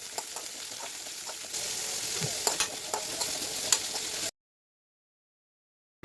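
Chopped onion and green chilli sautéing with salt in a pan for a Kerala green peas curry, a close, continuous sizzle with spatula scrapes, ending abruptly in silence.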